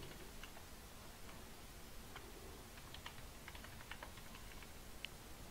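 Faint, quick keyboard clicks as a password is typed on a computer, irregular bursts of small taps over a low background hiss.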